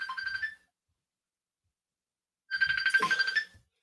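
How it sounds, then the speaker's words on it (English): A phone ringtone plays in two short melodic bursts, separated by about two seconds of silence, fairly quiet and heard alone. "Let me grab this phone."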